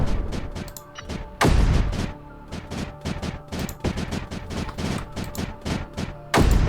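A rapid, uneven volley of booming cannon shots in the video game Creeper World 4, with two especially heavy blasts standing out near the start and end.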